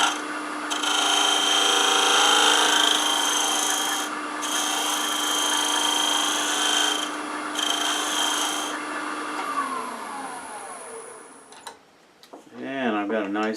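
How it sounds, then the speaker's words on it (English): A wood lathe spins as a scraping tool works the edge of a turned wooden pencil pot, giving a steady, loud hum with rasping scrape. The tool lifts off briefly a few times, then the machine winds down and a voice speaks at the end. "do a bit of a scraping cut here."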